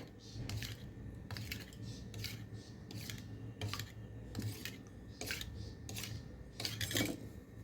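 A spoon stirs powdered sugar into hot milk in a pot while making shankarpali dough, giving soft, repeated scraping strokes at a steady rhythm, close and fairly quiet.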